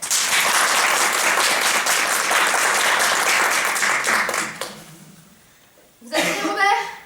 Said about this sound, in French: On applaudit Robert